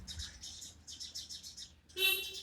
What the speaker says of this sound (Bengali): পাখির ডাকগুলো শুধু শোনো, ওই নিম গাছটার থেকে ডাকছে।